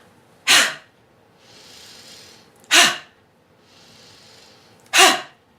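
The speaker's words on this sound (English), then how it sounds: "The fire breath is an inhale and then an explosive exhale." Three sharp, forceful exhales burst out at regular intervals, each preceded by a softer, hissing inhale, close and loud.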